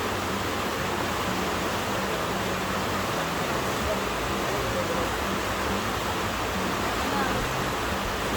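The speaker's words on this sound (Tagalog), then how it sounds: "Malakas kasi yung tubig." A strong river rushes beneath a bridge, a steady loud broadband roar of water close by that fills the whole stretch without pause.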